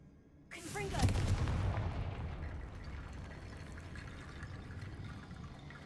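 A Confringo fire spell blasting in the video game Hogwarts Legacy, one sudden loud burst that rolls into a fading rumbling roar, with faint voices beneath.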